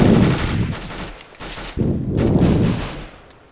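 Rapid automatic fire from an MP9 submachine gun in Counter-Strike: Global Offensive comes in two loud, dense bursts separated by a short pause, close and dominant with no talking.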